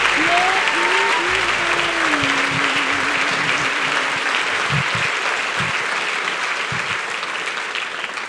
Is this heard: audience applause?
yes